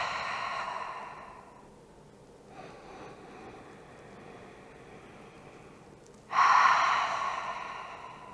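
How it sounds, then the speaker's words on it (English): Slow, open-mouthed exhales in breathwork practice, soft airy breaths with one stronger, louder exhale near the end, close and alone with no talk. "Exhale, fog your mirror."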